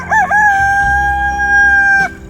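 A speckled Sussex hen in a backyard flock lets out one loud, close, drawn-out tonal call that wavers briefly at the start and ends abruptly, with no other sounds.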